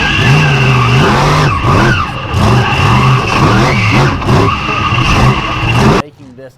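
The Bad Company monster truck drives around a Monster Jam arena in San Diego, its engine roaring loudly and rising and falling continuously with tire noise before cutting off abruptly at the end.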